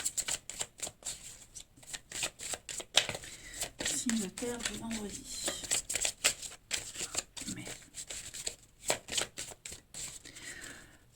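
Tarot cards being shuffled by hand, a steady run of crisp riffling flicks and taps lasting the whole stretch, close and clear, with someone speaking French briefly over them.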